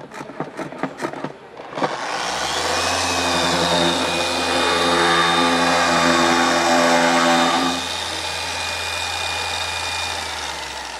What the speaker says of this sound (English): Let's go ahead and demonstrate how to wash your pad with this washer.